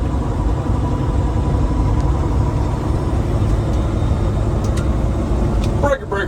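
Custom Peterbilt 389 semi truck rumbling steadily down the road, a continuous low engine drone close by with a brief clatter near the end.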